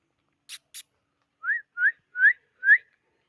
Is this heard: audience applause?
no